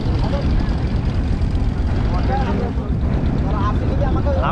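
Boat setting off on the Brahmaputra river in Kurigram, a loud steady engine drone and water rush running throughout while people talk over it.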